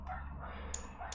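Two brief, distant dog barks sound from outside, faint and muffled against a constant low indoor hum.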